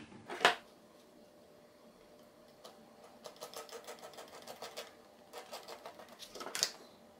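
A sewing machine stitches a pocket seam at a 1.5 cm allowance on a peasant-style pocket, in short bursts of fast mechanical chatter separated by quiet pauses, with a couple of sharp clicks.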